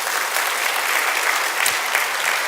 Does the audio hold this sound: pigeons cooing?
no